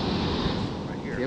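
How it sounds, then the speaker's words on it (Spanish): Big ocean waves break on a beach at low tide in a loud, continuous roar of surf mixed with gusting wind on the microphone, with no clear speech. "Oh, waves are getting super big now."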